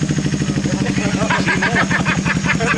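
Engine of a 2006 Kawasaki Ninja motorcycle, being run after sitting for 14 years, gives a steady, loud, close buzzing drone with a rhythmic pulse throughout.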